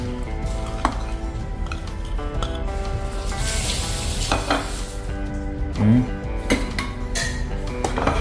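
Ingredients sizzling steadily in a frying pan while being stirred, with scraping and clinking of a utensil against the pan and a voice speaking over the cooking.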